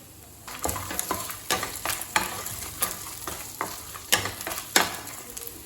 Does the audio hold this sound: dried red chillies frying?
yes